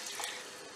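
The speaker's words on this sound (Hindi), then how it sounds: "अब इसके अंदर मैं डाल दूंगी पानी तकरीबन" Water poured into a pan of fried masala while cooking fish biryani, a short continuous splashing pour at close range with no talk.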